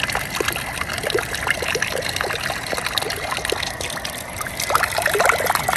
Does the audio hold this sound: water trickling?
yes